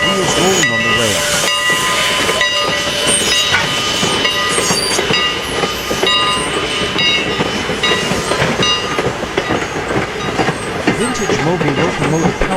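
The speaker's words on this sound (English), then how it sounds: "Strasburg Railroad No. 81, vintage steam engine. Chugging right through the crossing, smoke rising, wheels rolling on the rails." Strasburg Railroad No. 81, a vintage steam locomotive, rumbles loudly past a road crossing with continuous hissing steam, chugging and rolling wheel clatter, and a voice heard faintly underneath.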